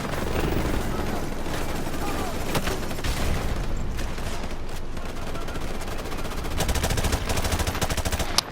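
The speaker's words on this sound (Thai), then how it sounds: "ช่วยกันยิงช่วยกันยิงนะช่วยกันยิง" Rapid automatic gunfire in the video game Call of Duty: Modern Warfare, dense bursts of shots running throughout with loud sharp volleys near the end.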